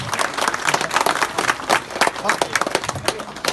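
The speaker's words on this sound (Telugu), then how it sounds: "అందరూ కూడా చప్పట్లు కొట్టాలి గట్టిగా." Audience applause at a felicitation ceremony in Arthavaram village, with dense, uneven clapping throughout and voices mixed in over it.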